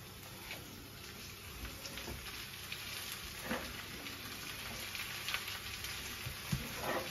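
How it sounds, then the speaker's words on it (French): Leeks sizzling in melted butter in a pan, a soft steady crackle and hiss with faint scattered pops, quiet and without speech. "le beurre, vous voyez, il a fondu, il commence à chanter"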